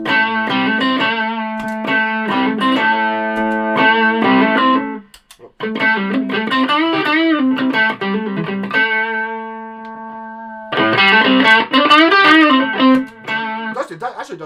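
An electric guitar plays through a Carlton HGS100 amp on its gain channel with reverb, sounding as loud sustained distorted chords and held notes in three long phrases with a short break.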